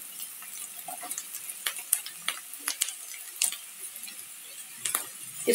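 Onion and carrot stir-fried in a pan for veg chow mein, with steady sizzling and repeated scraping, clinking stirs of a utensil against the metal, close and clear with no voices.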